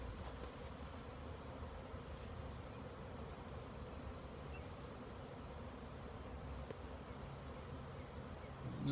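A dense, steady buzz of a swarm of honey bees issuing into the air near a spruce tree, a continuous droning hum without pauses, heard from a short distance.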